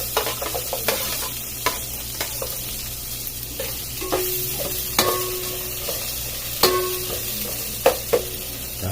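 Onions sizzle in a small pan of hot oil with garlic while cooking pesang bangus, a steady frying hiss broken by sharp clinks and scrapes of a utensil stirring against the pan, close and alone.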